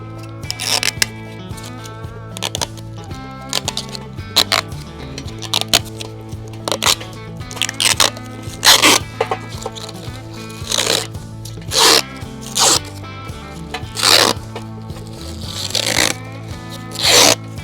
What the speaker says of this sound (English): Let me start peeling off all the plastic on these